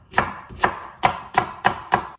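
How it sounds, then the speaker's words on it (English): Six sharp knife strikes chopping onions roughly on a board, evenly spaced and close, loud and alone with no talking. "So chop up your onions roughly."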